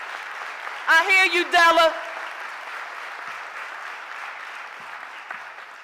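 A short burst of audience applause and cheering during a mayor's budget address, a couple of seconds long, mixed with a speaker's voice, then a quiet room murmur.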